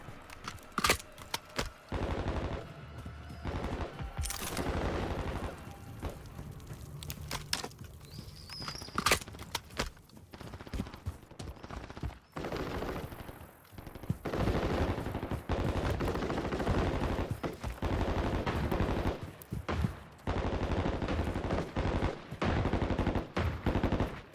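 Machine gun fire from a first-person shooter played on a PS4 with a HORI Pad 4 FPS Plus controller: dense, loud bursts of automatic fire and scattered single shots rattle on for most of the stretch, with a brief lull near the middle.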